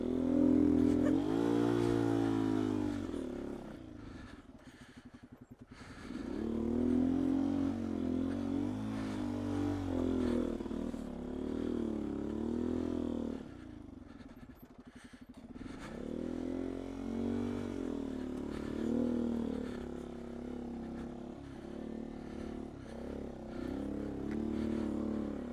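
A 2019 Beta 125 RR-S dirt bike on singletrack with a 13T sprocket revs hard in repeated rising bursts, with brief drops to idle between them and a close, loud engine.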